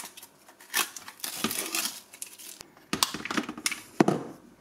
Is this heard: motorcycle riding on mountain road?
no